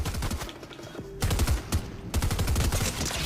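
Rapid bursts of automatic gunfire from the video game Fortnite, close and sharp, arriving in several clusters of quick repeated shots with short pauses between.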